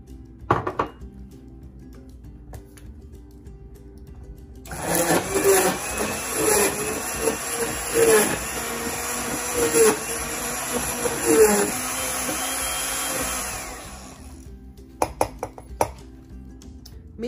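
An electric frother whirs steadily for several seconds, mixing hot coffee into a foamy pumpkin spice latte, with clinks before and after.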